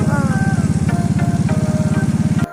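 Motorcycle engine idling or running close by on a muddy rural track, a steady, loud, rapid pulsing throb that cuts off abruptly at the end.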